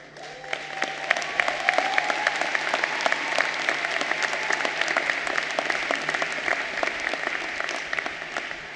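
A sustained round of audience applause for two professors, many hands clapping densely and steadily at moderate loudness, with no talk over it.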